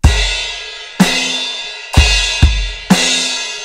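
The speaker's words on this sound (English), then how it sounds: "And it's played on quarter notes on the crash." A crash cymbal on a drum kit is struck on quarter notes with a kick drum in the pre-chorus groove of a song: five loud, even splashy hits, each washing out and decaying before the next.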